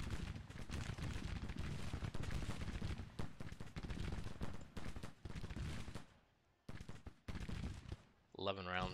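Civil War strategy video game battle with troops firing muskets and cannons: continuous loud volleys and crackling gunfire, briefly dropping away near the end before resuming.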